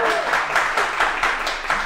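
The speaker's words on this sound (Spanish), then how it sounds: "gran aplauso para la madrina" Applause greets a singer in a radio studio, a steady wash of clapping with small swells that lasts about two seconds at moderate loudness.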